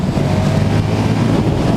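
A 2017 KTM 1290 Super Duke R ridden in sport mode through small villages, a steady loud engine rumble mixed with heavy wind roar buffeting the microphone, continuous and close.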